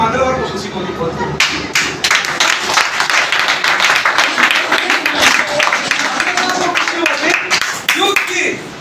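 Audience applause for achievers at a business group gathering, a crowd clapping steadily and fairly close for several seconds with speech heard over it.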